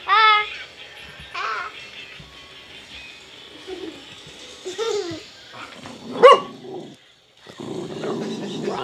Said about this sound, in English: Hey, chill, you dog.